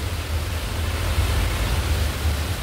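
Strong wind blowing outdoors during a rainy spell, a steady, dense roar with a deep low rumble that holds for the whole stretch, with no talking.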